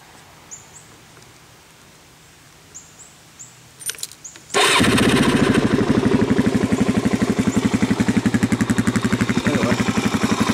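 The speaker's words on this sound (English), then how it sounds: "that's the bike started up, and give it a little rev here" A 2006 Suzuki DRZ400SM motorcycle with an MRD aftermarket exhaust cranks over with a few clicks, then fires and settles into a loud, steady, throbbing idle with slight revs, close by and with no talking.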